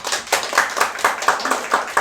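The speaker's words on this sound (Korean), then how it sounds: "박수 그렇게 세게 치시는 거예요" An audience at a real estate agents' reading forum clapping hard in a quick, steady rhythm, loud and close, with sharp repeated claps for about two seconds.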